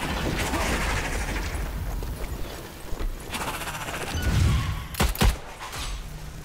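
A grenade explosion and gunfire in the video game Strange Brigade sound as a dense run of rapid shots, followed by a low boom and a couple of sharp, loud blasts near the end.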